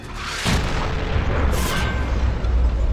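Heavy gunfire and booming blasts from the Call of Duty 4 Modern Warfare Remastered campaign, with two loud reports about a second apart over a rumbling, sustained low roar.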